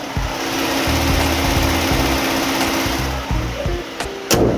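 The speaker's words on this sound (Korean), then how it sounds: "엔진룸 개폐했습니다 엔진음 들려드릴게요" A 2020 Hyundai Palisade SUV engine idles steadily up close with the hood open, a constant mechanical hum with a faint rhythmic ticking, ending with a couple of brief clicks.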